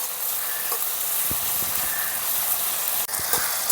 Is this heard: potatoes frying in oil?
yes